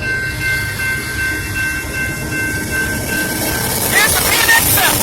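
A BNSF freight train rolls past at night near a railroad junction, a loud steady rumble of wagons with a thin squealing tone and rising rattle toward the end.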